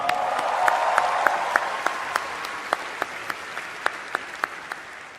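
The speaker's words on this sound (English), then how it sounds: "Huge round of applause." A large roast-show audience applauds in a dense, sustained burst of clapping, with a few sharp individual claps standing out as it tapers slightly.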